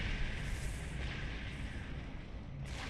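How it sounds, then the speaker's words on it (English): Photon torpedoes firing and exploding in Star Trek Online, a dense, continuous roar of booming blasts and rumble at moderate loudness with no clear gaps and no talking. "We'll fire lots of photon torpedoes at it and kill it."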